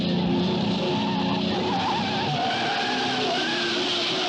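A car chase from the 1962 James Bond film Dr. No, with engine and skidding tire noise that runs continuously under a loud orchestral score for the whole stretch.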